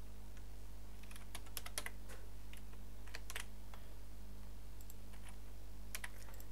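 Keys clack in short irregular bursts as HTML code is typed on a computer keyboard, the taps crisp and close over a steady low electrical hum, with no one speaking.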